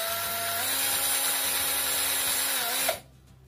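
A power drill bores a diagonal hole into a partridge call, running loudly and steadily for about three seconds before stopping abruptly, leaving a faint background.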